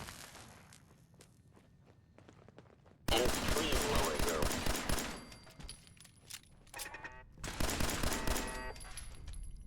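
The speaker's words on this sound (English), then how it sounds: "Hate laser turrets." Laser turrets in Fallout 4 fire rapid bursts of crackling shots, loud and dense. Two long volleys are separated by quieter stretches of footsteps and ambient noise.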